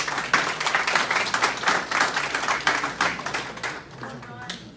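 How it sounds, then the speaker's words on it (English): Applause at a township planning commission meeting: a fairly small group claps in distinct bursts with an audible rhythm, close and loud, tapering off in the final second. "Hold the applause."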